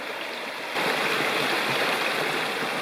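A creek rushes along the Appalachian Trail near Longarm Branch. The water comes in suddenly as a steady, full, close hiss of flowing current and continues unbroken.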